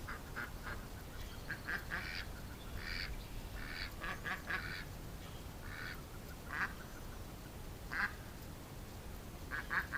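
Duck quacking repeatedly in short nasal bursts, several calls scattered irregularly over a steady outdoor background hiss, moderately near and without any talking.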